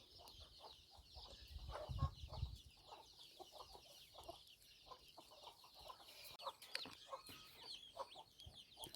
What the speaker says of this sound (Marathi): आम्ही सीताफळ टाकलं ना कशा खातात बघा कोंबड्या पिल्ल्या